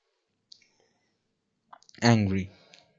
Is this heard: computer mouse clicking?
yes